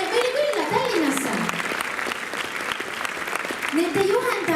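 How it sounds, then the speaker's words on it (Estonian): Audience applause at a children's dance club performance in Tallinn, with steady dense clapping throughout and a voice speaking over it at moments. "Teeme suure aplausi, kes ka Rakverest kohale jõudsid meile külla Tallinnasse."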